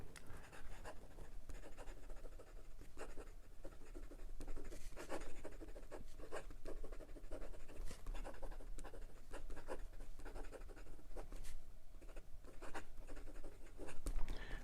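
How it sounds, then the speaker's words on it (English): A Jinhao 100 Mini fountain pen with a very fine, scratchy, skipping nib writes on paper, giving close, continuous scratching strokes with quick rhythmic bursts and no voices. "As you can see all the way through this writing sample, the pen is skipping like crazy."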